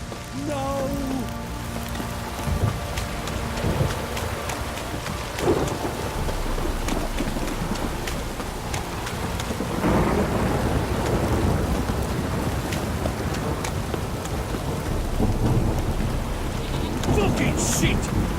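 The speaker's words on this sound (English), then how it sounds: "This downpour's a bastard, it is." Heavy downpour and thunder in The Witcher 3: Wild Hunt on PC, dense continuous rain hiss with deep rolling rumbles swelling at intervals, loud and enveloping throughout.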